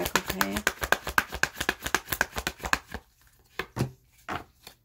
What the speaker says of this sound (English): We're going to pull some more cards from this deck